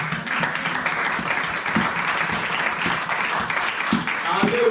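A church congregation at a French-language service applauds and cheers continuously, a dense, steady wash of clapping with voices mixed in throughout.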